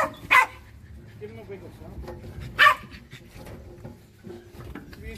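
A terrier out ratting on a farm gives two sharp barks with quieter whimpers and panting between them, while people talk nearby.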